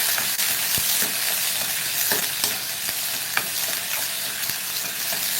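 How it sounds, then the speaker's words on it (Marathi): Finely chopped onion sautés in hot oil for a restaurant-style cauliflower curry, a loud, close, unbroken sizzle with intermittent crackles and the soft scrape of stirring, and no voices. "कांदा चांगला गुलाबी रंगावरती परतून घ्या."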